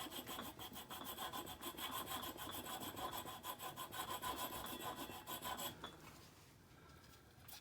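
Sandpaper wrapped around a wooden dowel rubs steadily against a carving tool being sharpened, a dense continuous rasping that stops near the end and leaves faint quiet.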